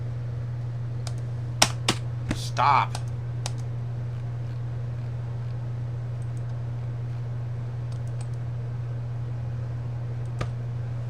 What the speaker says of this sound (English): These cats love to walk on keyboards.